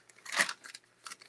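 Scissors snipping around a paper flower cut-out for decoupage on a glass vase, a few close, crisp cuts in quick succession, quiet and alone.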